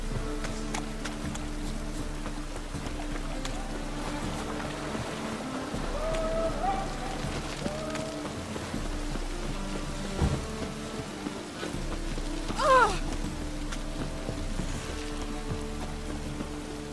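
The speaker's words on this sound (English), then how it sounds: "Raining again." Steady rain in The Witcher 3: Wild Hunt hisses continuously alongside a low constant hum, with a few faint chirping tones and brief louder splashes partway through.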